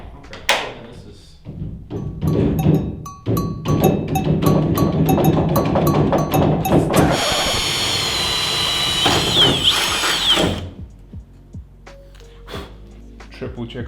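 A power drill whirs steadily for a few seconds, loud and close, preceded by clattering knocks and voices.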